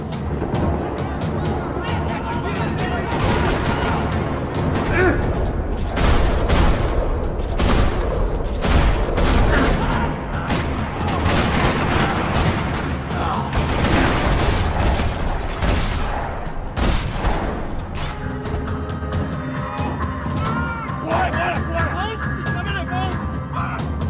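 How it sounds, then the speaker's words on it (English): Dense gunfire rattles on and off in a parking lot through loud, chaotic action sounds, with bursts and booms, while voices shout over it. "Another parking lot rattling with gunfire."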